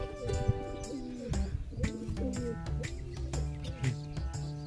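Soft, throaty cooing from roller pigeons repeats in short rolling phrases, close by, with scattered fluttering and clicks around them.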